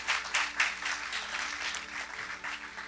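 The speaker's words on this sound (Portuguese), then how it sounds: "pode dar um aplauso caloroso ao Senhor" A church congregation applauds warmly in praise after the preacher's call during a Portuguese-language worship service, steady dense clapping with swelling peaks filling the hall, no talk over it.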